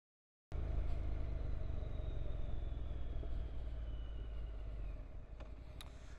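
A Honda NC700X motorcycle with a modified exhaust, fitted with a windshield and luggage rack, is ridden with a steady, low engine rumble and wind noise that starts abruptly and holds throughout.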